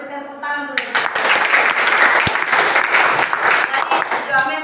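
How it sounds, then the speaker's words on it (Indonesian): A classroom audience breaks into dense, steady clapping after a brief spoken lead-in, the applause filling the room and holding at an even level to the end. "Berikan tepuk tangan dulu"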